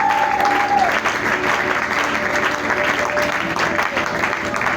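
Church congregation at a Sunday service breaking into loud, sustained applause that fills the room steadily without pause, with a faint voice underneath at the start.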